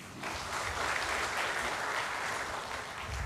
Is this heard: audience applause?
yes